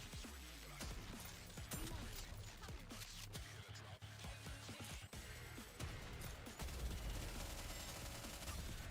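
Rapid gunfire from ship gun ports in the game Nikke, a dense continuous barrage of shots and heavy booming impacts, loud and close throughout with no voice over it.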